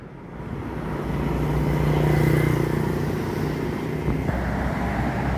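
An MPM bus with a Laksana SR2 body on a Hino chassis roars past on an eastern highway, a loud, steady broadband engine and road rush that swells and holds near throughout.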